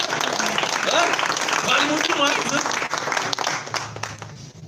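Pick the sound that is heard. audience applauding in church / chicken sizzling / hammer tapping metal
audience applauding in church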